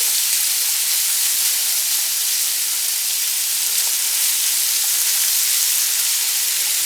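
Chopped bacon strips sizzle steadily in a frying pan as the fat renders out, a continuous bright crackling hiss with faint pops and no talking.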